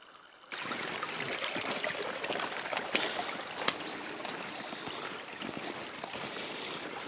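Water streaming and trickling along a misty forest hiking path near the Lac de la Maix, a steady close rushing flow that starts abruptly and continues with footsteps and splashes.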